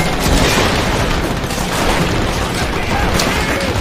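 Panzerschreck rocket launcher fire in Call of Duty: World at War, loud booming blasts within a dense wash of battle noise that continues throughout the stretch.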